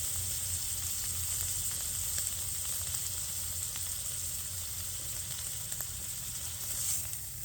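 Eye round beef searing in garlic-infused oil, a steady soft sizzle and crackle close by with faint pops, no voices over it.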